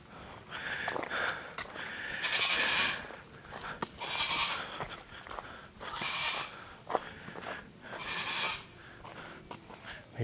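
Goat bleating on Mt Talamitam, several drawn-out calls in a steady rhythm, fairly close, with a few sniffs and footsteps between them.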